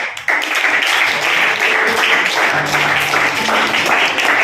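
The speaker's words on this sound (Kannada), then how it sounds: "ಅಕ್ಕ ಮಹಾದೇವಿ ತಂಡದವ್ರಿಗೆ ಚಪ್ಪಾಳೆ" A classroom of students breaks into sustained applause for a quiz team, continuing steadily to the end, with faint voices in the background.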